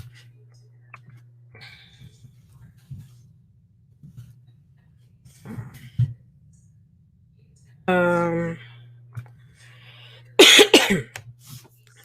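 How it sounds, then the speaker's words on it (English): A woman coughs indoors, blamed on a fan left running at night; a steady hum runs throughout, with a voiced throaty burst and a sharp, harsh cough set apart by quiet stretches. "That's why I'm coughing."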